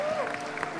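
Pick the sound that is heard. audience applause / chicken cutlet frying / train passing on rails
audience applause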